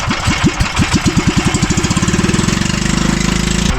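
Small boat engine thumping close and loud, its rapid chugging pulses speeding up into a steady fast idle-like rhythm, with no voices over it.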